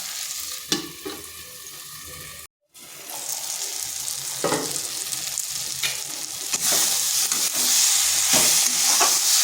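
Broad beans being sautéed in spice masala sizzle loudly while a spoon scrapes and stirs in bursts, with a brief silent cut early on and the frying getting louder and steadier toward the end.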